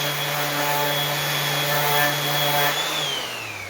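Power sander whirring steadily on a wooden tree cookie at high grit, a smooth even drone that winds down near the end.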